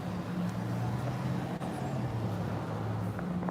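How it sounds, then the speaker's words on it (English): A car passes by on a street, a steady low road rumble at moderate distance that holds through the moment, with no talk over it. "Here comes a white car."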